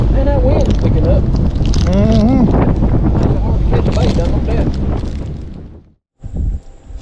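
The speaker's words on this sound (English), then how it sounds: "Man, that wind's picking up." Wind gusting hard around an open fishing boat on the water, a loud steady rush buffeting the microphone, with someone talking over it before it briefly cuts out.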